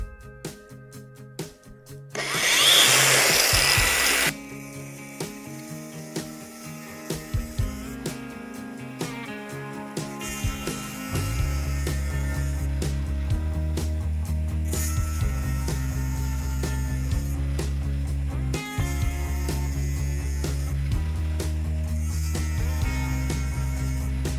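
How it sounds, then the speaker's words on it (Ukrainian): An angle grinder scores a metal pipe lying loose in open vise jaws. A short loud harsh burst is followed by a steady droning motor hum with intermittent scraping contact, close and with no talking. "Ріжемо болгаркою, головне не під кутом. Робимо легкі рухи по контуру"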